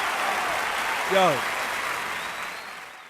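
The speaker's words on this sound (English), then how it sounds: "Everybody stand up and clap for my homeboy." An audience applauds a hip-hop producer at a tribute event, sending a dense wash of clapping across the whole clip that slowly fades. A single short shout is heard partway through.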